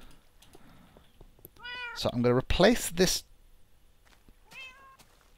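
A cat in Minecraft meows a few times, first softly and then once more near the end, while someone talks over the middle.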